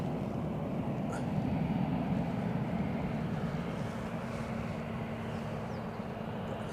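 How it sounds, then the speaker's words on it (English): A helicopter flies overhead near Edinburgh Airport, a low, steady rumbling drone that stays constant and somewhat distant, with some wind noise. "it's certain I can hear a helicopter"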